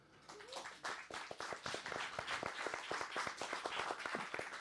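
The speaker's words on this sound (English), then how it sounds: "Give them a round of applause." Applause from a small studio audience at a songwriters' showcase, steady scattered clapping building over a few seconds, fairly close, with no voices over it.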